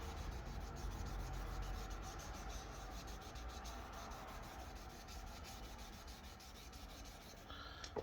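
Fine sandpaper rubs steadily over the shell of a Logitech G Pro X Superlight mouse in quiet, continuous, close-up rasping strokes with no talk.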